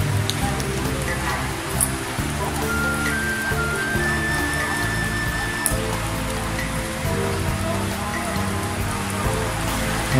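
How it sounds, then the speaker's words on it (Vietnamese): Steady rain pours down on a neighborhood street in Phu Trinh ward, Phan Thiet, a dense continuous patter that fills the scene, with faint voices and brief tonal sounds now and then in the background. "Rồi trời mưa rồi."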